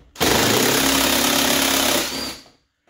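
A power tool drives an 8 mm bolt on a Ford F-150 truck door panel in one loud, steady whirring burst of about two seconds that winds down, with no talking.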